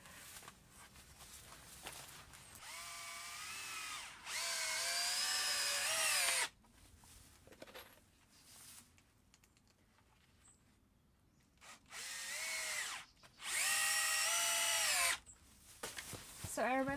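A power drill drives screws into a wooden table top for a greenhouse workstation, heard as two long, loud, close bursts of whirring, each rising in pitch, with quieter handling noise between them.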